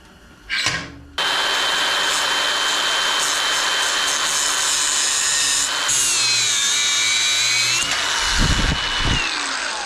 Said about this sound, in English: I keep forgetting I can use my corded tools inside.